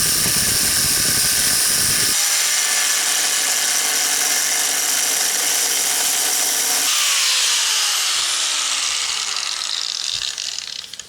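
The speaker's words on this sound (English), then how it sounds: "we've got a cutoff wheel on the angle grinder" An angle grinder with a cutoff wheel slices through the car body metal of an AE86 engine bay with a loud, harsh, sustained scream. The pitch shifts partway through as the cut changes, and it winds down at the end.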